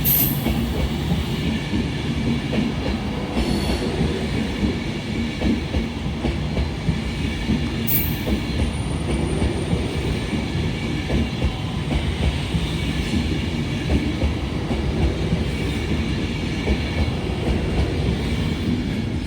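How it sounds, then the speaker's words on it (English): A Class 390 Pendolino bound for London Euston from Glasgow Central pulls into Carlisle station, a continuous loud rumble of rolling stock with rhythmic wheel clatter and occasional faint squeals, no voices over it. "(390-122) bound for London Euston from Glasgow Central. Arriving in now"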